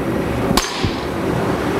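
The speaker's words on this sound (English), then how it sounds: "And with the hammer." A hammer strikes hot twist-Damascus steel while forging a Bowie knife, landing as one sharp, loud metallic blow over a steady background roar from the forge.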